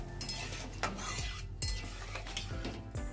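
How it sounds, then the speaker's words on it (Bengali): Mango curry (am jhol) being stirred in a pan after water is added, with a spoon scraping and clinking against the metal in repeated strokes over a low bubbling simmer, close and fairly loud, no voices. "আমি ভালো করে নেড়ে চেড়ে দিলাম।"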